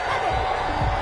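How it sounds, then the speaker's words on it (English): Stadium crowd noise in a PS4 football video game, a dense steady roar of a large crowd reacting angrily to a penalty flag, with low rumbling swells, loud and continuous throughout. "Well, the crowd doesn't like that."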